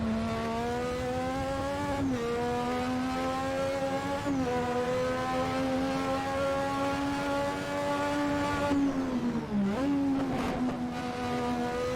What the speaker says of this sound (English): Big meaty downshift.